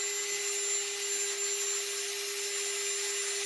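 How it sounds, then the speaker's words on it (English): A fine buffing pad polishes a guitar body on its belly carve, a steady mechanical whir with a constant tone and a soft rubbing hiss, even and moderately quiet throughout. "You'll see that I am using a really fine buffing pad."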